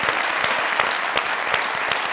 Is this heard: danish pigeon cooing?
no